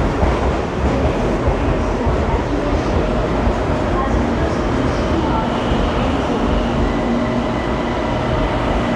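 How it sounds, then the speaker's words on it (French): A Bangkok metro train rumbles loudly and steadily close by, a dense continuous roar of wheels and motors, with faint voices mixed in. "le métro qu'il va falloir prendre, c'est celui qui arrive du pont"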